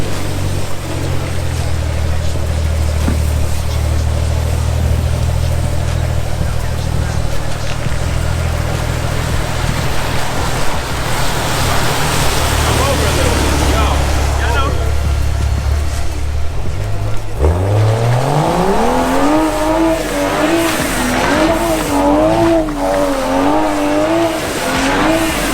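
A BMW 435i fitted with a big Turbosmart turbo blow-off valve, engine droning steadily before a sharp surge, then a rising, wavering engine note as the car accelerates hard past, loud and close.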